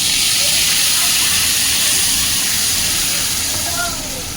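Onion paste hits hot oil with whole garam masala, giving a loud, steady sizzling hiss that slowly eases toward the end.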